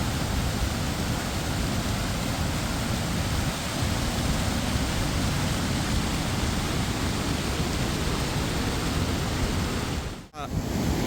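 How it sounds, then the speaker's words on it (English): Two waterfalls pour with a dense, steady roar of rushing water, loud and constant, broken only by a brief handling knock near the end. "Look at that for fucking power. You can hear it as well. Fucking all of that feeding into these two waterfalls here."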